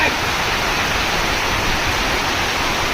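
Strong wind and heavy rain lash a farm in Gondal, a loud, dense roar of rushing air and falling water that stays constant and close throughout.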